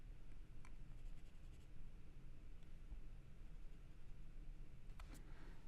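Pencil sketching on paper while drawing Michelangelo's David, a soft continuous scratchy hiss of strokes close up and steady throughout, with a few faint ticks near the end.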